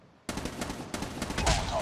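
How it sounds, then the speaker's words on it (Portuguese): Rapid automatic fire from an HVK-30 assault rifle in the mobile shooter game Call of Duty: Mobile, loud sustained bursts crackling almost continuously over about a second and a half after a brief quiet start. "Essa minha arma aqui, meu, a bicha atira muito fast."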